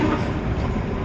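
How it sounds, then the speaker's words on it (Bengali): A train rumbles past nearby, a steady dense roar of wheels and carriages filling the whole moment at constant loudness with no voices. "ট্রেন যাচ্ছিল যার জন্য একটু বন্ধ রেখেছিলাম"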